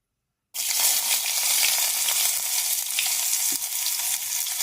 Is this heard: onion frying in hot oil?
yes